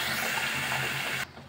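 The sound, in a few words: water poured into cauliflower curry paste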